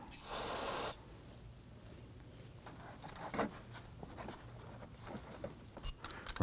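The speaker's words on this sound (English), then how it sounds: "Give that a quick spray with some solvent." A single sharp hiss of solvent sprayed onto a rear brake caliper of a 2015-2024 Nissan Murano lasts under a second, followed by quieter garage rustling and faint clicks.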